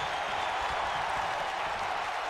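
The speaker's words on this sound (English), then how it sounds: "Crowd's still going wild for Lloyd." A wrestling crowd at a QAW Pandemic event cheers and claps for a wrestler, a dense steady roar of applause with no breaks.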